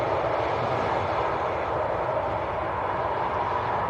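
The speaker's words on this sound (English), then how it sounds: "The Aer Lingus down there as well, just taxiing out" An Aer Lingus airliner taxiing at Leeds Bradford Airport, heard as a steady, broad jet-engine roar that stays constant throughout, moderately loud and a little distant, with no voices.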